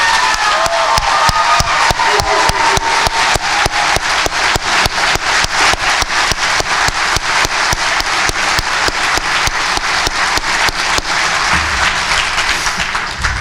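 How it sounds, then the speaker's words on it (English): Loud, sustained applause from a commencement ceremony audience, rapid dense clapping with a few cheers, steady and close for the whole stretch. "give them a round of applause"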